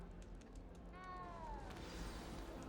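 A frightened little cat in Hogwarts Legacy gives a single drawn-out meow that rises and then slides down, fairly faint over a low, steady game ambience.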